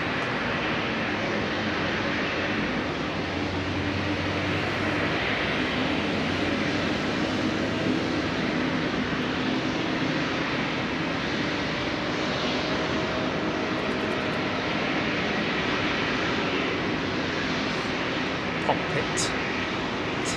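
Icelandair airliner flying over Heathrow Airport, a steady broadband engine roar holding at constant loudness for the whole stretch, with a faint low drone beneath and no voices over it.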